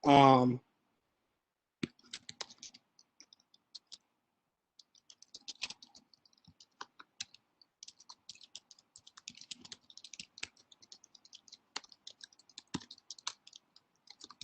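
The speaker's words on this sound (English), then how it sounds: "I just type in a sentence" A sentence is typed on a computer keyboard for a classroom lesson: after a brief vocal sound at the start, quiet, sparse key clicks build into a steady stream of light, close keystrokes with small pauses.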